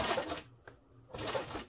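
A sewing machine stitching a leatherette banquette box cushion, two short whirring bursts of stitching separated by a brief pause, close and fairly quiet.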